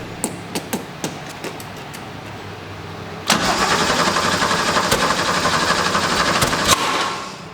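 A Porsche 911 barn find cranks and fires up after a few light clicks and taps, then runs as a loud, rough, close engine for several seconds before easing off near the end, with no talk.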